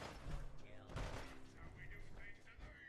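Gunners firing in the Fallout 4 Commonwealth, a dense crackle of game gunfire with several sharp bursts over a busy background, fairly loud throughout.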